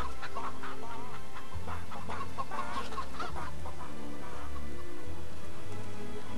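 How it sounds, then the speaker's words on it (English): Chickens cluck in a farmyard in the video game Fable III, a flurry of close, overlapping clucks over steady game background music. "Come on, chickens."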